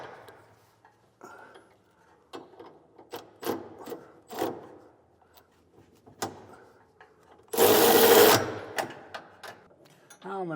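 Bolts on a Curt EZr Double Lock underbed gooseneck trailer hitch bracket are snugged down in a truck bed: scattered metallic clanks and taps, then a loud, close whirring burst from a power driver lasting under a second, followed by more light clatter.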